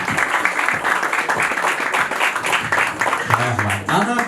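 Audience applause at an academy opening ceremony during a certificate presentation, dense sustained clapping from a crowd, loud and close, with a voice calling out briefly near the end.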